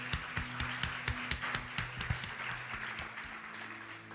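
A church congregation claps during a worship service, a fairly quiet, moderately quick run of hand claps with soft taps between them, and nobody speaks over it.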